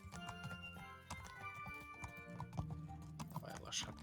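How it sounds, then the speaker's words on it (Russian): Rapid clip-clop of hooves beats in a quick galloping rhythm, with a voice talking over the game sounds. "Давай, лошадка, скачи."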